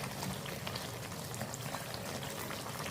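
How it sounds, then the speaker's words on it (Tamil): Herbal leaves boil in a pot of water, producing a close, steady rush of rolling bubbles and soft pops that stays even throughout, with no voices. "நல்லா நம்ம இலை பூரா நல்லா வெந்துக்கிட்டு வருது பாருங்க"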